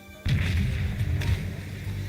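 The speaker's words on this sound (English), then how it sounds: "the sound of the gunfire erupted across the sea" Gunfire booms across the sea in the video game Life Makeover, a sudden loud onset followed by a few heavy thuds and a sustained rumbling roar.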